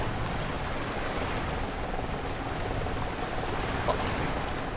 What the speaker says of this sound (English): then the big wave comes right over the boat